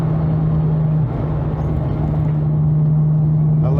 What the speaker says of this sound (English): It starts to really spool